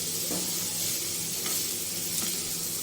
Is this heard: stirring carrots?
yes